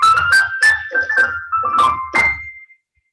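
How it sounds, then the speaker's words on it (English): Electronic keyboard playing a quick run of high treble notes, about seven short plucked tones in an uneven rhythm, the last one ringing briefly before silence. "Treble will sound like this."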